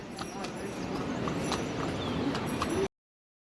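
Horse hooves clip-clop on the mountain pilgrimage trail to Yamunotri, a close run of sharp, quick hoof strikes over a busy outdoor background with faint voices nearby.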